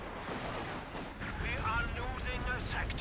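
A Stuka bombardment in Company of Heroes 2: rumbling explosive blasts and heavy battlefield noise build steadily, loud and continuous, with a commentator talking over them.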